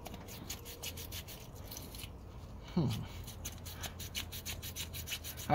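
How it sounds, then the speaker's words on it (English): Steady rhythmic scrubbing rasps against the corroded bore of an aluminum and steel coolant housing on a Dodge 318 or 360 Magnum engine, quiet and close, with a faint voice in the background. "So I'm going to clean that bore just a little bit."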